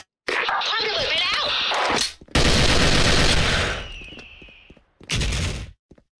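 A Degtyarev machine gun in a video game fires three loud, rapid bursts separated by short gaps, with the second burst trailing off into echo.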